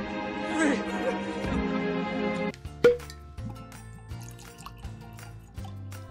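Still Austin straight rye bottled-in-bond whiskey is poured from the bottle into a glass, a steady gurgling stream that ends with a clink, followed by dripping plops. A voice talks alongside the pour.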